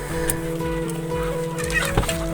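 Backyard breeder hens cluck repeatedly nearby, several birds overlapping in a busy, steady rhythm, with a faint hum running underneath.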